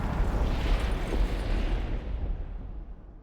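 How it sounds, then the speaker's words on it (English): A Frag Bomb goes off in the video game Darktide: one massive, booming blast that rolls on with a broad roar and fades over a few seconds. "the Frag Bomb. This is practically a mini nuke which does a crap ton of damage"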